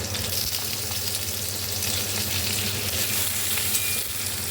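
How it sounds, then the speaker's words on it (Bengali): Potatoes fry in a pan, giving an even, continuous hissing sizzle with fine crackles, close up and uninterrupted by speech. "আলুটা ভাজা ভাজা হচ্ছে"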